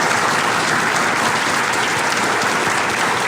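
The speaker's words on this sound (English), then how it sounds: "Let's give all of our candidates a round of applause." A crowd at an evening commissioner candidates forum gives a steady, full round of applause for the candidates, dense clapping filling the room from start to finish with no talk over it.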